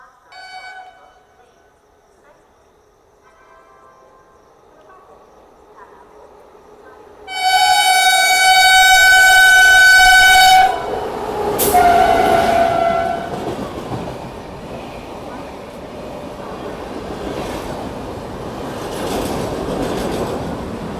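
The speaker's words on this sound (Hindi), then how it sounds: "आ गई किंग राजधानी।" An August Kranti Tejas Rajdhani Express pulls into a station on the Ratlam–Vadodara line, sounding a loud sustained multi-tone horn, then rumbling and clattering past with wheel noise under distant voices.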